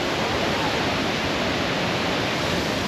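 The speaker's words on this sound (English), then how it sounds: "I've just reached the waterfall." A waterfall pours in a steady, loud, broadband roar that fills the scene without a break; no voices or other sounds rise above the rushing water.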